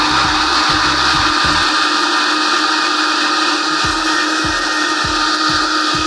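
A blender purees vegetables for enchilada sauce with its lid left open, running loud and continuous from start to finish with a few bumps and knocks underneath.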